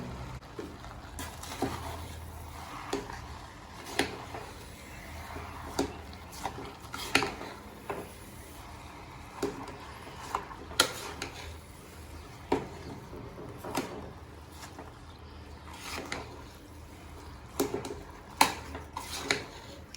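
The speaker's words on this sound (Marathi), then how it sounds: "त्याला चांगलं मिक्स करून घेऊया." Rice mixing in a pot for home-style prawn biryani, with repeated metallic clinks and scrapes of a spoon against the pot in an irregular rhythm over a quiet background, no speech.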